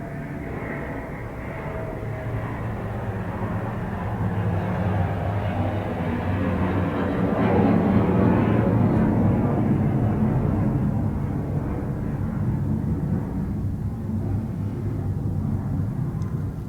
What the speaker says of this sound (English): Just let that aeroplane go overhead.